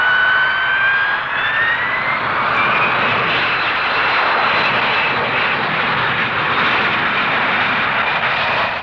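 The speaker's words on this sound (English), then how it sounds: "The remarkable Harrier military strike aircraft, which will shortly be going into service with the Royal Air Force." A Hawker Siddeley Harrier military strike jet roars past at a 1960s Farnborough airshow, a loud, continuous whining jet noise that holds steady throughout.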